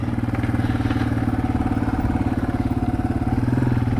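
A small motorcycle engine drones steadily and close by, with a fast, rhythmic putter that holds a constant pitch throughout.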